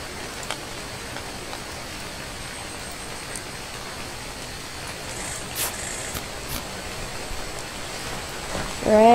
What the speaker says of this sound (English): Oh, for fuck's sake, it's raining.